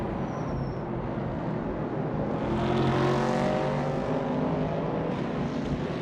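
A 1970 Chevrolet Camaro runs among other race cars in a steady, loud blend of engine drone with rising harmonic whine as cars pass close by, continuous throughout with no talking.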